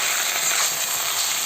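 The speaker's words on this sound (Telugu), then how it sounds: "దీన్ని కూడా ఆయిల్లోనే ఒక 2 to 3 minutes వరకు ఫ్రై చేసుకుంటున్నాను" Brinjal pieces fry in hot oil with a dense, even hiss and fine crackle, close and constant through the short stretch; no voices.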